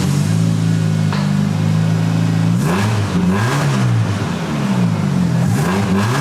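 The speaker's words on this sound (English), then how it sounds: "I would like to see how it might sound with my world famous, speedy, smooth, drone-free, awesome muffler" A car engine revs repeatedly through a speedy, smooth, drone-free muffler, a dumped exhaust rising and falling in several close, loud pulls over a steady idle rumble, with no talk.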